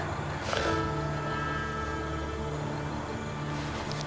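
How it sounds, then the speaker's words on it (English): A train rolls along the rails with a steady low rumble and drawn-out tonal hum, moderately loud and unbroken, and a brief brighter scrape near the start and again near the end. "I love the sound of a train."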